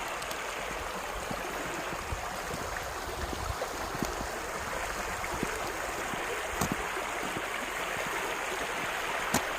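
Running water from a stream on an autumn nature walk, a steady broadband rush with no letup, fairly quiet and continuous, with faint scattered clicks over it.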